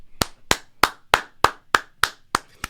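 Hands clap nine times at a steady, even pace, each clap sharp, loud and close, with brief silence between them and no talk.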